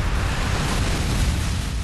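A big explosion in the video game Prototype: a dense, sustained rumbling blast with heavy low-end roar filling the whole stretch at steady loudness, without any talk over it.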